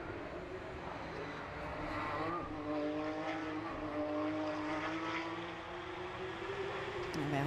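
Porsche Carrera Cup race cars on the Barcelona circuit, engines droning and swelling as they pass at middle distance, pitch rising and falling through the gears, under a steady crowd-and-track wash.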